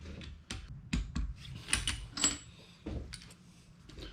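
A torque wrench tightening bolts on a Shovelhead engine to 30 pounds, several quiet, close metallic clicks and ratcheting taps spaced irregularly in a hushed room.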